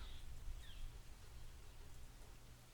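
Rain falls in a faint, steady hiss with soft low rumbling beneath, a quiet continuous wash with no voices over it, as an audio drama backdrop.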